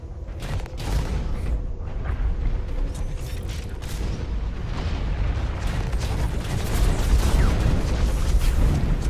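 Dense, continuous gunfire and booming explosions fill an online shooter match, a rough, loud barrage with sharp bursts throughout and no clear pause.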